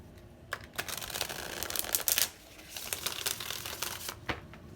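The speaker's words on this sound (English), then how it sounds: "One more shuffle." Tarot cards shuffled by hand in a bursty run of soft papery riffles and taps, close and fairly quiet, with no talking.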